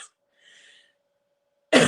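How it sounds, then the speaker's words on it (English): A single short, sharp cough bursts out loudly at the very end, following near silence and a faint breathy sound. "Sorry, I'm going to cough."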